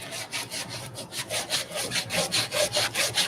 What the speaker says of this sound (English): I'm just gonna soften up the sander marks